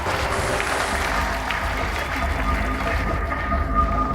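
An audience at a robot combat event applauds, a dense steady wash of clapping that goes on throughout and sounds fairly close, with some crowd noise underneath.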